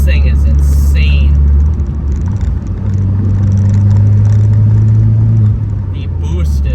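A turbocharged Pontiac Solstice with a Stage 1 tune drones under boost, a loud, steady low engine hum with shifts in pitch while someone talks over it from inside the cabin.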